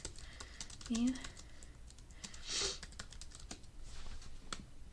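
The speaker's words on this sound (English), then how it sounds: "to change this, I'm going to type it here." Keys on a computer keyboard clatter in quick, light bursts, close and fairly quiet, with a voice speaking briefly over them.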